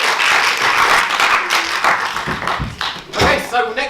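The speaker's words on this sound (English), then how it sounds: "Big round of applause there." An audience at a Bangor Comedy summer show in May 2016 gives a burst of clapping that fades after a couple of seconds, and a voice speaks over its tail end.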